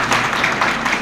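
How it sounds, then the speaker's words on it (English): A crowd at a Kashmiri American New Year celebration and opening ceremony gives a brief, dense round of applause, steady and loud throughout. "Big round of applause"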